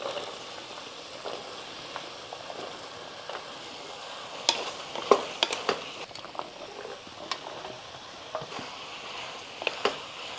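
Bottle gourd pieces sautéing in sesame oil with tomato, a soft steady sizzle broken by occasional scraping stirs and utensil clinks, close and moderately quiet with no talking.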